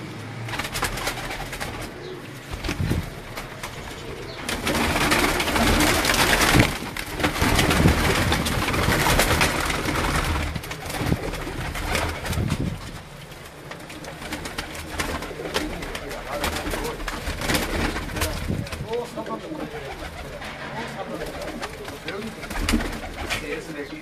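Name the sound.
kamgar pigeons cooing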